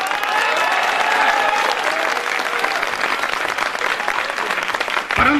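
An audience at a Hindi comedy poetry gathering (hasya kavi sammelan) breaks into loud, sustained applause that carries on for several seconds before cutting off near the end.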